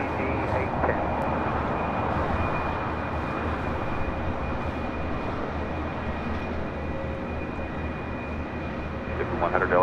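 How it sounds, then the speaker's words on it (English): An Airbus A350-900 from Nadi touches down on the south runway at LAX, a steady, moderate jet rumble with a faint high whine continuing throughout, while radio chatter and voices run over it. "A350-900, touching down here on the south side."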